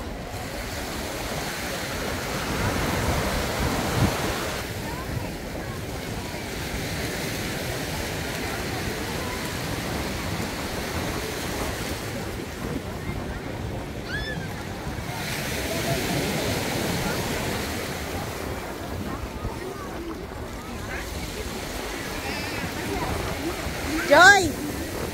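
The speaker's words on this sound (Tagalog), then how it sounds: "Malakas ng alon." Strong ocean surf at Tantura beach in Israel roars continuously, waves crashing and washing close by with wind buffeting the microphone and faint voices now and then.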